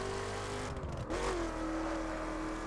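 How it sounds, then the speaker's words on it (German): A car engine in the racing video game The Crew revs and shifts gears, a steady loud engine drone that dips briefly with a gear change, then climbs again with a rising whine. "Also wenn meiner schaltet, rötzt der ordentlich"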